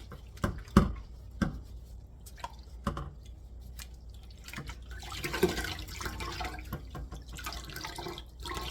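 Yarn pushed and swished by hand through soapy dye water gives soft wet squishes and scattered drips, quiet and close, with sloshing that grows a little busier toward the end.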